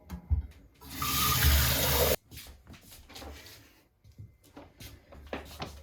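Tap water, 400 ml for a protein shake, pours loudly in one steady rush for about a second, then stops abruptly, followed by quieter kitchen clatter and handling noises.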